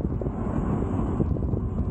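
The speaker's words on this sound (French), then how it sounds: "il y a du vent qui se lève, là" Wind rises on the Col de la Croix de Fer mountain pass, a dense, steady rumbling roar of gusts buffeting a microphone, continuous and close throughout.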